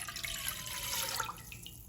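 About one and a half cups of water are poured into a cooking pan while making a steamed banana sweet. The pour is a brief, steady splashing stream at low volume that tapers off near the end.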